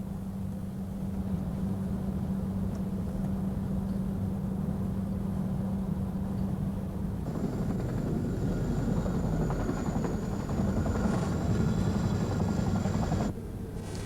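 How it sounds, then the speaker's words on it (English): A Chinook helicopter in service during the 1982 Falklands conflict, its rotor drone steady and moderately near, with a rising whine joining midway as it passes, no voices over it. "the only Chinook helicopter to be saved from the Atlantic conveyor"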